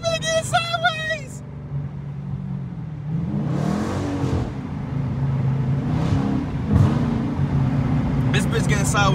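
A Dodge Challenger R/T with bald tires revs hard as the wheels spin and the car slides sideways, its engine note rising and surging loudly beneath excited shouting from inside the car.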